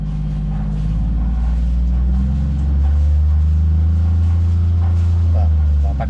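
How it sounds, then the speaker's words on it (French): A motor vehicle engine is revved up to around 2000 rpm after the clutch is pressed, a loud steady low drone that rises in pitch and holds there, with no voices. "on accélère. Et vous voyez qu'il monte déjà à 2000 tours en quelques secondes"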